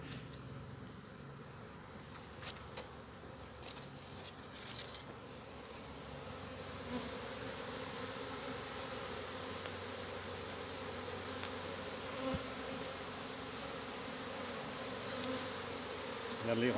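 A honeybee swarm being gathered into a box buzzes steadily and close throughout, a dense continuous hum with a few brief louder bursts.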